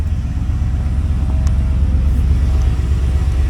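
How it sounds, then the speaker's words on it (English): A 1992 Chevy pickup truck idling and driving, a steady low engine rumble close by with a constant drone and no talking. "pull the battery box off and drive her out"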